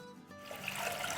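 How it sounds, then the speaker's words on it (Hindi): Water poured into a pan for moong dal halwa, a soft trickle building into a steady, fuller pour that runs to the end. "तो यहाँ हमने डाला है 4 कप पानी"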